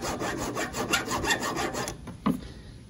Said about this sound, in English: So all I did was take a file.